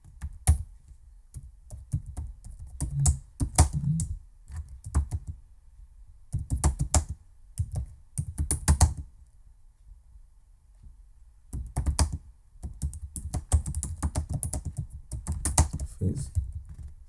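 Fingers type on a computer keyboard in quick bursts of clicky keystrokes, close and clear, separated by short quiet pauses.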